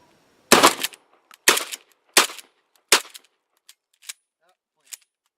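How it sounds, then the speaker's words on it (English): A handgun emptied in quick succession using the trigger reset: about eight sharp, loud shots, the first four heavy and evenly spaced, the later ones quieter and echoing, with brief silences between. "Now, I'll go ahead and I'll empty this gun, just use the reset."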